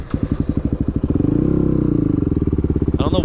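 Dirt bike engine chugging at low revs with a steady rapid thumping pulse that swells slightly and then settles, close and loud, with no one speaking.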